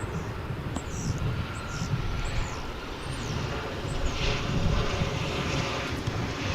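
American Airlines jet arriving at DFW from Mexico City gives a moderate, rumbling engine roar that builds gradually, with a few faint chirps and wind noise over it, and no talk.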